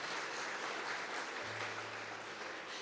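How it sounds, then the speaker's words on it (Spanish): A church congregation breaks into sustained applause, a steady wash of clapping that carries on throughout, heard from within the crowd. "Denle el aplauso a él entonces"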